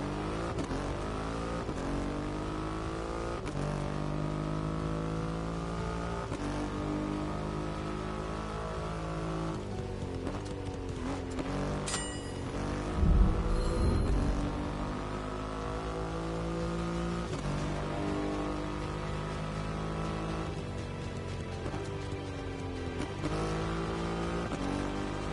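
A Triumph Rocket 3 motorcycle with a big 2.5-liter engine roars steadily in a racing game, its engine note rising and falling through acceleration with a brief louder burst midway, no talking.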